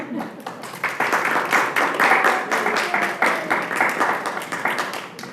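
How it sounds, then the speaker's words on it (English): Audience clapping for new members at a city climate and environmental justice commission meeting, a small crowd applauding in a room with distinct individual claps, starting abruptly and holding steady. "Do you think we could do some clapping for these new members?"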